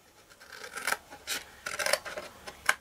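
Scissors snipping through card for a craft box, several separate crisp cuts with short rasping slices and pauses between, close and fairly quiet.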